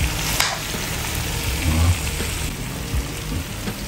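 Pork bistek with onions sizzling loudly in a frying pan while being stirred, a dense close crackle with occasional scraping, no talk.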